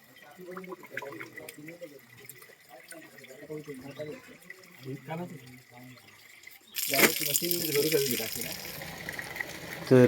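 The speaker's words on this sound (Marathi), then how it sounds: "हे बघा ही टाकी भरतायत" People talk for several seconds, then a loud rush of water pouring into a tank for a village communal meal bursts in and keeps flowing steadily.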